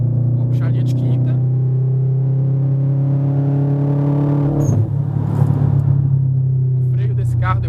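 A Subaru WRX drives at night with a loud, steady engine drone inside the cabin. Midway the pitch dips as the driver shifts into fifth gear, then the drone settles again while someone talks over it.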